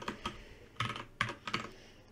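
Keystrokes on a new computer keyboard, typed in a few short irregular bursts with pauses between them, close and fairly quiet.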